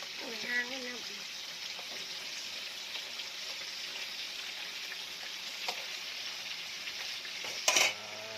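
Fish frying in hot oil, a steady close sizzle running throughout with brief clinks and a voice heard faintly near the start.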